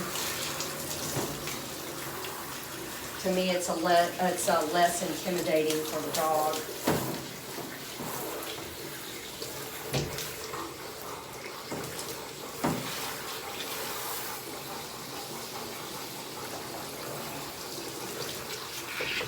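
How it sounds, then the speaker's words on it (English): Water sprays steadily from a hose or sprayer onto a large dog during a bath, a soft continuous hiss that keeps running beneath a person talking throughout. "I don't like to get this water directly in the eyes, just spraying it right at their face"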